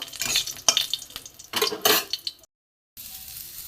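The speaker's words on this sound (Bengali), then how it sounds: "শুকনো লঙ্কা ভেজে নেব।" Dried red chillies frying in hot oil after garlic and black cumin, a close crackling sizzle with spoon scrapes and pan clinks, cutting abruptly to silence before a fainter hiss resumes.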